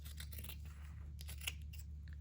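Scissors snip through fabric to trim a pocket narrower on a mixed-media art board, a series of close, crisp cuts over a steady low hum.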